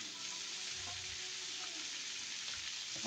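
Shrimp sizzle in plain cooking oil in a pan, a quiet, even frying hiss that continues throughout, with a faint clink near the end.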